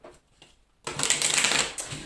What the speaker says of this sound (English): Just going to do one more shuffle.